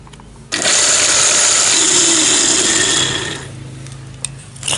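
A repaired water pump that had not been drawing water is switched on with an abrupt start, then runs with a loud, steady mechanical hum and whir for a few seconds before the noise drops lower, with no talking.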